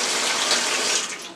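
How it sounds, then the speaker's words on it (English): Water pours steadily from a tap into a basin being filled for washing vegetables and fruit with an ozone generator, a dense, close splashing rush that holds constant before easing slightly at the end, with no talking. "we're just gonna start by pouring water"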